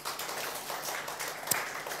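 Church congregation clapping during a sermon, a dense wash of many hands, fairly soft and distant, with one sharper clap standing out near the end.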